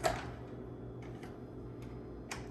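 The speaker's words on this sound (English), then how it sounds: "Then I'm gonna turn the stove on" A gas stove's igniter clicks a few times, sharp ticks spaced unevenly over a quiet kitchen background, close and fairly faint.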